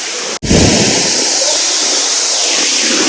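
The Alakapuri waterfalls at Sasippara roar loudly and steadily nearby, a dense rushing wash broken only by one brief dropout at the start.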